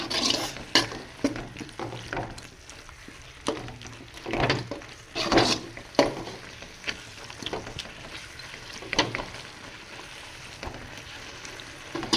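Ginger garlic paste sautéing in a kadai for a chicken gravy, a steady low sizzle with repeated clinks and scrapes of a stirring spoon, close and alone.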